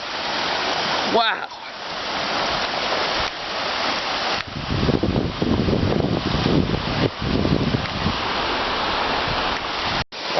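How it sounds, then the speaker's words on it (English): The flooded Toms River, swollen by Hurricane Irene, roars past close by in a loud, continuous rush of churning water, with a man exclaiming over it at the start. "this, is the Toms River, and it is completely and utterly out of control"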